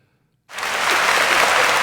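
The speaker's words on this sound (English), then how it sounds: "Gotta give you a round of applause." A round of applause bursts in abruptly after a moment of silence, then holds steady and fairly loud, a dense wash of clapping with no talk over it.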